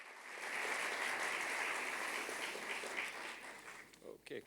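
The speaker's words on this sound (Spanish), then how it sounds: "Le damos un fuerte aplauso" Sustained applause from an audience at the opening session of an OECD event, steady and dense throughout before fading out near the end.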